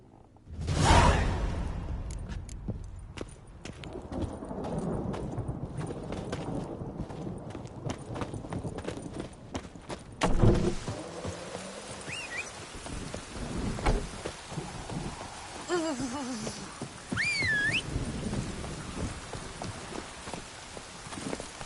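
Roach, Geralt's horse in The Witcher game, clip-clops along at a steady walking pace, hoofbeats close and distinct over rain, with a rumble of thunder partway through and no one talking.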